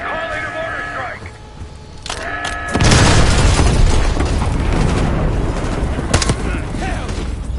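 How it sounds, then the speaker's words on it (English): Mortar strike explosions in the Call of Duty: Black Ops 6 campaign: a loud, close blast bursts out after a few seconds of game tones, then a long rumbling roar continues with further crackling hits. "Calling a mortar strike."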